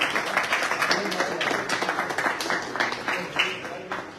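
An audience at a young cricket team's ceremony claps steadily, a dense, close patter of many hands sustained throughout with a voice speaking over it.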